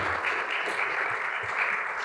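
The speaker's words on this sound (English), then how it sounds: "I think we should give our great panel a round of applause." Audience applause for a panel at a legislative branch conference on bipartisanship and congressional oversight, a brief, dense and even burst of clapping from a sizable crowd.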